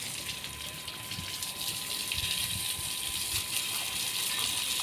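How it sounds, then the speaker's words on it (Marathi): A hose gushes and sprays water onto freshly pruned trees, making a continuous close rushing hiss with a faint steady pump whine underneath, and no talking. "आणि आता पाणी मारतोय."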